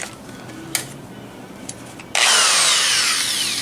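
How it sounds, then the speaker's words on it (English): Power drill boring holes into a wooden amp cabinet for an Atwater Champ combo amp: a few light clicks and handling noises, then the drill kicks in loud and close with a sustained whining bite into the wood. "So let's drill some holes in this thing."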